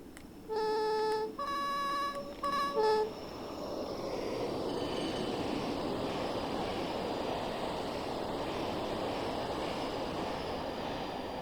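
Class 86 electric locomotive in a train simulator rolling past on the West Coast Main Line over Shap, opening with a loud two-tone horn sounding several times, then a steady rushing rumble of the passing train that holds on at a constant level.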